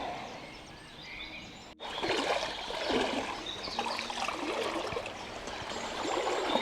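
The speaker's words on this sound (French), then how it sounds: "Et vraiment une magnifique rivière" A river in Brittany, the Ster Goz, flowing steadily nearby with a broad hiss and bubbling of moving water, broken by a brief dropout before the flow resumes and grows slightly louder.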